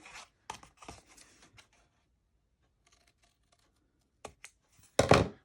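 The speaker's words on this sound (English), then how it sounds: "I'm just going to cut right up to that little score line right there." Scissors cut cardstock flaps up to a score line for a box-style backpack, making sharp, crisp snips and clicks close by, a cluster of them first, then a pause, then a few louder cuts.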